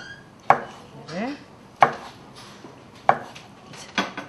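Three sharp knife strokes through konjac onto a cutting board, evenly spaced about a second apart, with a faint scraping between cuts.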